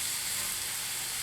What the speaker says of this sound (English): Let's let that simmer just a minute.